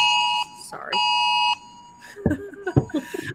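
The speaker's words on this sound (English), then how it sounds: "alarm we're all going to be getting" A phone emergency alert sounds in two loud, harsh electronic tones, each holding for about half a second. Afterward a person starts talking.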